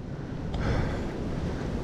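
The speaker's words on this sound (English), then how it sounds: "Yeah, windy day was not a good day." Wind blowing on a blustery day in a prairie park in Ohio, a faint, steady low rush of air across the microphone, brief and continuous with no voices.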